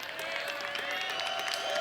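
Crowd applause at a disc golf tournament, a steady wash of clapping across the short stretch with a voice talking over it.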